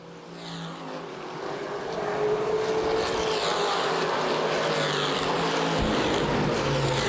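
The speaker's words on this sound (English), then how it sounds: "117 of Lank still rolling around the bottom at an extremely slowed pace, just trying to get to the finish of the race" Street stock race cars lapping Winchester Speedway during a CRA championship race, a loud continuous engine roar that swells after the first two seconds and holds steady, with no talk over it.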